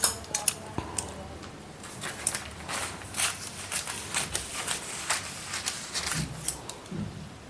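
Scissors cut through blouse fabric for a katori blouse, giving a run of crisp snipping and clicking strokes at close range with brief handling rustles between them.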